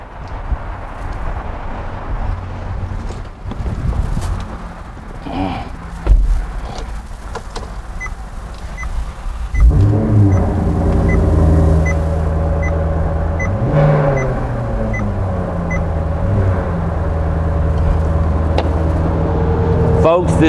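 A 2012 Maserati GranTurismo Convertible sits quietly with faint handling noises, then its engine fires up about halfway through, flares with a rising rev, and settles into a loud, steady, throaty idle close by.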